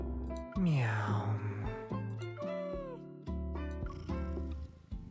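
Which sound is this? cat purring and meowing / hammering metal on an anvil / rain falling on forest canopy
cat purring and meowing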